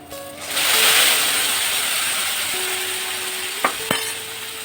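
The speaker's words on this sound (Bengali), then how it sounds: "দেখুন রসুনটা আমার ভাজা হয়ে গেছে, আমি এখন ডালটা ঢেলে দেব" Red lentils poured into a pan of fried garlic set off a loud, steady sizzle of frying that fades slowly, with a couple of sharp clinks of a utensil near the end.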